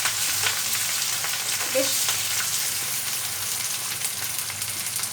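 Chopped onions frying in hot oil for Bengali-style mutton kosha, a close, steady sizzle with faint stirring scrapes; a voice speaks briefly over it.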